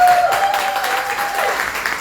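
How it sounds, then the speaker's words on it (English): Steady round of audience applause at a panel event, loud and close, held for a couple of seconds with a faint tonal whistle running underneath. "So give her a round of applause."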